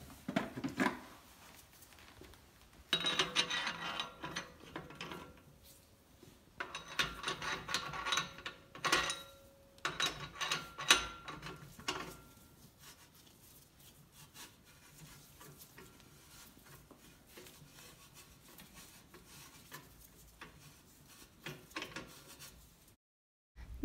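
Metal Campagnolo thread-cutting tool grinding and rasping in bursts as it is turned into a lubricated bicycle bottom bracket shell, with clicking ratchet-like scrapes, then quieter stretches of faint turning.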